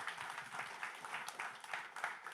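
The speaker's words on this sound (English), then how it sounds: "A round of applause," A startup event audience gives a round of applause, a fairly faint, even patter of many hands clapping from a distance with no one talking.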